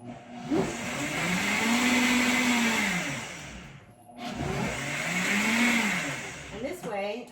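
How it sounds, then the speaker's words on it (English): A Ninja Creami blends frozen homemade ice cream made with raw dairy, a loud continuous whirring motor with rising and falling pitch in two long runs separated by a brief pause, close and steady, with a short clatter at the end. "Okay, let's blend."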